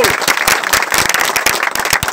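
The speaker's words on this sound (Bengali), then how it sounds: "আর একবার হাততালি হোক এই কথার জন্য" Audience applause at a community gathering for a drug-free society: dense, loud clapping from many hands that carries on steadily without pause.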